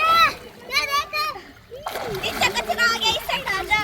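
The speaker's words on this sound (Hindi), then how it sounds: "अभी ब्रेस्ट स्ट्रोक करके सिखाता हूँ" Breaststroke swimming in the water of a village canal used as a pool, with choppy splashes heard under close, loud chatter from young people.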